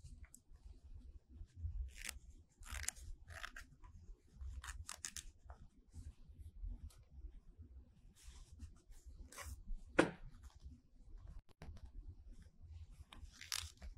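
Stitch ripper snipping and tearing through serger stitches along a fabric edge, a run of small sharp clicks and picks spaced irregularly over a low steady background hum, close and fairly faint.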